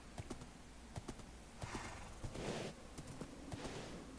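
Horse hooves clopping in a steady, even rhythm while riding across open ground in Minecraft with the Dawncraft modpack, with a soft whooshing swell in the middle and no voices.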